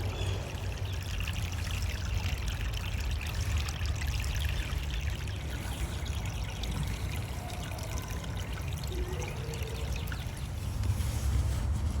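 Water pours and trickles steadily into a cup beside a stream while organisms are collected, a continuous close splashing and gurgling with no talk.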